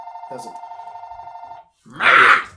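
A phone rings during a podcast recording: a steady, electronic-sounding tone pulses rapidly and evenly for about a second and a half, then stops, followed by a loud, broad noise burst.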